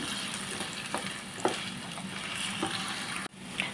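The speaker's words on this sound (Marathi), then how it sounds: "बटाट्याला आपण आता गोल्डन फ्राय करून घेऊया" Potato pieces frying golden in hot oil in a pan, a steady dense sizzle with occasional crackles and pops and a brief clatter near the end.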